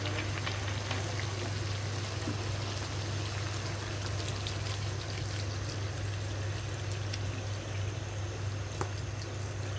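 Broth is poured into a pot of fish curry cooking with gourd, a steady hissing, bubbling wash of liquid close by that runs continuously without pause.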